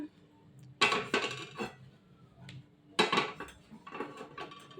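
Metal clinks and scrapes of a spoon working oil around a wok on a stovetop come in two close bursts of rattling contact, each followed by softer scraping and brief taps, all fairly quiet with no voices.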